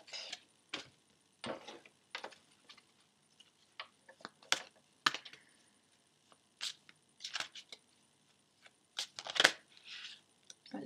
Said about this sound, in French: je vais tirer encore 3 cartes pour vous